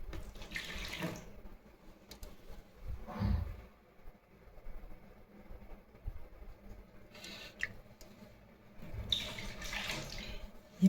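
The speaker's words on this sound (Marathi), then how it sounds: "मी सर्व पंचपात्रांमधलं सर्व वरती खराब आलेलं पाणी हळू काढून घेते" Dirty water is slowly poured off from small metal vessels, with gentle trickling and splashing bursts separated by quiet pauses, close by and soft.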